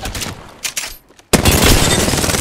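Gunfire in the Apex Legends video game: scattered sharp shots at first, a brief lull, then a sudden loud sustained burst of rapid automatic fire.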